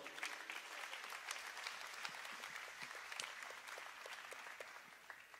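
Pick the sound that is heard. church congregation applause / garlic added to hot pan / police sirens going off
church congregation applause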